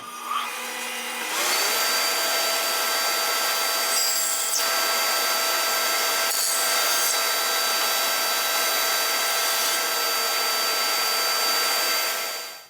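A bandsaw cuts excess wood off a glued hammer handle with a loud, steady whirring whine. It rises at the start, holds evenly for about eleven seconds, then winds down at the end.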